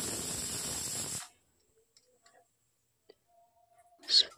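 A pressure cooker vents steam in a loud, steady broadband hiss for just over a second and then cuts off abruptly. A few faint kitchen ticks follow in near silence before a short sharp hiss returns at the end.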